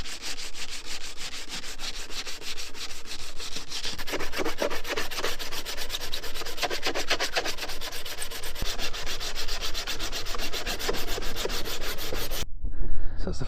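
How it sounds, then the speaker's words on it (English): Steady, continuous sanding of body filler on a van panel, a loud rasping scrub that runs the whole time with no talk, then cuts off abruptly near the end. "That's the first load of filler sanded back."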